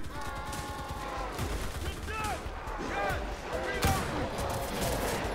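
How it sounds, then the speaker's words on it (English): Sporadic gunfire and distant shots in the World War II shooter Enlisted, fairly faint beneath steady battle ambience and someone talking. "we're starting to get shot at, and those snipers are way too good sometimes"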